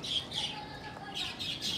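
Pigeons give short squawky calls and flutters in a few bursts, moderately close, with no voices over them.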